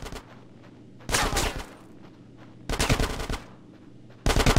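Automatic gunfire in GTA San Andreas during a street shootout, heard as three loud bursts of rapid shots separated by quieter stretches of low game ambience.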